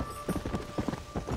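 Horse hooves in Red Dead Redemption Undead Nightmare, a quick clip-clop of several hoofbeats in an uneven galloping rhythm over a faint background hiss, with no talk.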